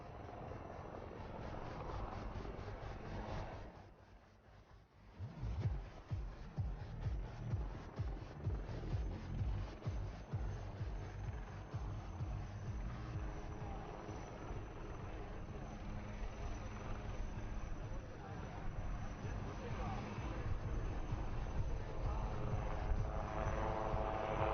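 A HAL Light Combat Helicopter flies sideways parallel to the runway at the Aero India 2021 show at Yelahanka air station, its rotor chop and turbine roar rising after a brief dip and holding loud, with a voice talking over it.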